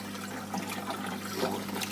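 Eheim Aquaball 60 internal aquarium filter running submerged, pushing out a steady gurgling, trickling flow of water, close and continuous at moderate loudness, with no talking.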